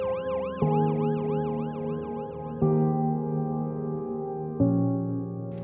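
An ambulance siren wails in a steady repeating sweep, loud and close, then shifts to a sustained flat tone over a deep engine hum, with no talk.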